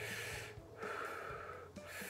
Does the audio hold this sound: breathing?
yes